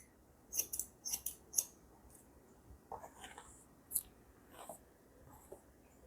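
Crisp scissor snips cutting hair on a wig during a short granny-style haircut, a quick cluster of close cuts followed by softer scattered snips and combing rustle.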